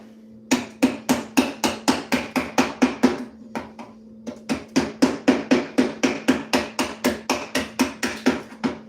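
A hammer strikes glass to break a window for a stained-glass project, a rapid steady series of sharp close knocks, about two to three per second, with a brief pause midway and no talk.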